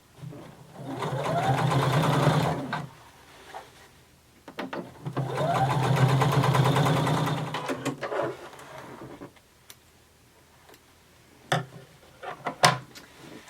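A sewing machine stitches a seam on a McCall 6361 garment in two sustained runs of rapid mechanical whirring, each a few seconds long, followed by scattered clicks and handling noises, with no talk.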